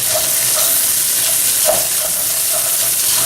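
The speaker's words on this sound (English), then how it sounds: "And stir that around just for a second." Black-eyed peas stirred in hot bacon fat make a loud, steady sizzle with faint scraping from the stirring, close up and without talk.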